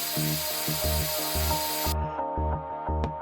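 Spray can painting a gun in the VR game Gun Club VR, a hissing spray that runs for about two seconds and then cuts off, set against rhythmic thumping music, no talk.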